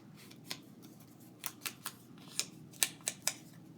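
Scissors trim paper for a 12x12 scrapbook page layout, with about eight sharp, close snips that come singly and then in a quicker cluster toward the end over a low room hum.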